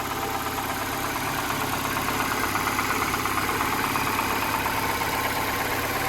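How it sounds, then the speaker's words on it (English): A 2010 Ford Fusion SE's 2.5-liter four-cylinder engine idles smoothly, a steady, even, low hum and drone with no variation and no voices over it. "As you guys can tell, nice and smooth running engine"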